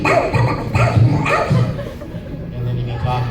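A voice actor imitates a dog barking, giving a few short woofing barks in quick succession, close and fairly loud, with a low voice murmuring between them.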